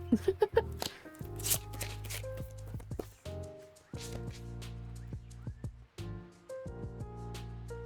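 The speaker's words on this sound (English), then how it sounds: "These cards are so massive that I have to shuffle them sideways." Oversized playing cards shuffled sideways in the hands, giving quick papery riffles and flicks in short bursts over steady background music, with a few scattered taps in between.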